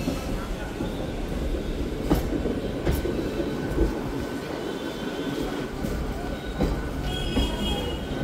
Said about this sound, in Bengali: এইমাত্র আমাদের দীঘার ট্রেন আমাদের স্টেশনে ঢুকছে।